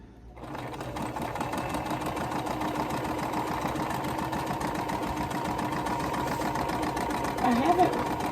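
Sewing machine stitching quilt fabric corner to corner for a Sparrows quilt, a steady rapid mechanical whir running continuously at close range, with a brief swell in speed near the end.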